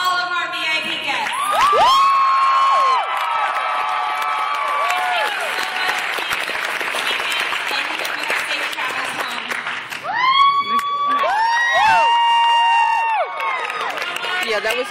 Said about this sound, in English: let's have one more huge round of applause for all of our VIP guests.